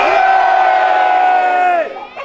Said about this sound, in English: Can I hear a cheer from all of the guardians of the Hoard?